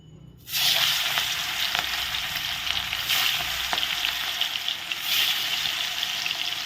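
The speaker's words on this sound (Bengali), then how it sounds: "এখানে তেল গরম হয়েছে তেলে এখন দিয়ে দিব কি ফুটবে নাকি" A flour-coated boal fish head, about 2 kilos and cut from a 7 kilo boal, drops into hot oil and sizzles with a sudden onset, then settles into a steady, bright crackling fry that continues throughout.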